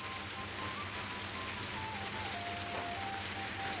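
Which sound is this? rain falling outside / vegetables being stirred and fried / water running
rain falling outside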